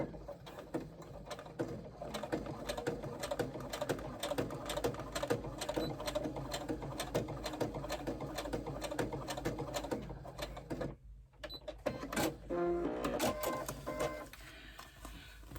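A sewing machine runs a seam beside an earlier one, a fast steady mechanical needle rattle held for several seconds, a brief pause, then a short restart, close and clear with no talking.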